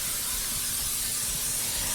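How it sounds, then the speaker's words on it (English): Pam cooking spray is sprayed onto the bottom of a baking pan, a steady close aerosol hiss running continuously without pause, loud and alone with no talking. "Just have to spray the bottom really well. So you want the bottom of the pan to be sprayed."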